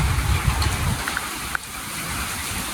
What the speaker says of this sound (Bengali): কি সুন্দর বাতাস আর ঝিমঝিম বৃষ্টি হচ্ছে